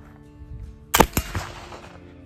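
A single sharp report from a gun loaded with homemade 1880s-recipe black powder, loud and close, followed by a second smaller crack and a short decaying rumble.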